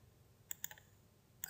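Computer mouse buttons clicked during 3D rigging work, a few quiet sharp clicks, a quick cluster of three followed by one more after a pause, over faint room hum.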